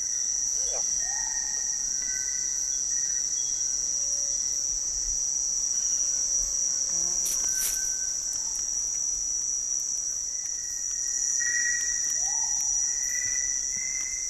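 A grasshopper and other insects chirp at night, a dense, steady high-pitched cricket trill running throughout, with a few faint bird-like calls rising now and then in the background.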